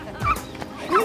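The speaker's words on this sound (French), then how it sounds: "Laissez ce chien tranquille, vous lui faites du mal." A dog whimpers and yelps in pain as it is hurt, giving short high cries over about a second, fairly close and not loud.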